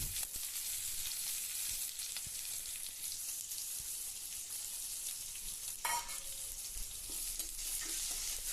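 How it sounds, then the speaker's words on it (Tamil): Curry leaves and small shallots frying in oil for a mutton bone curry, a steady close hiss of sizzling with occasional stirring scrapes and a brief louder crackle midway, no voices. "நம்ம வெட்டி வச்ச சின்ன வெங்காயத்தையும் அதில் அள்ளி போட்டுடலாம்"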